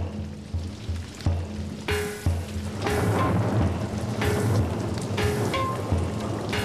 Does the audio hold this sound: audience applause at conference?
no